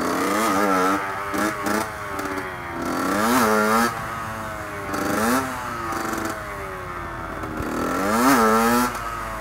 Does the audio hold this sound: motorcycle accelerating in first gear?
yes